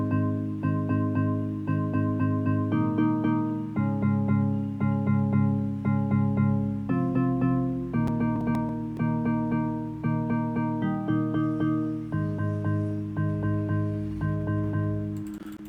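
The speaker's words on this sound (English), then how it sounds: "So you can see it's sounding like bellish, kind of bellish." Bell-like FM synth keys played in Pigments for an Afrobeats track, sustained chords and melodic notes with a glassy, chiming tone, changing every second or so over a steady low bass, loud and alone without talk.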